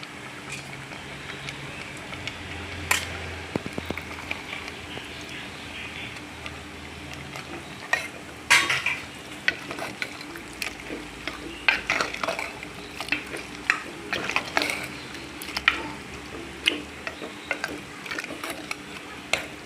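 Green gram is tipped into cooked vegetables in a pan for puzhukku and stirred, a spoon scraping and clinking against the pan in irregular close strokes over a faint sizzle.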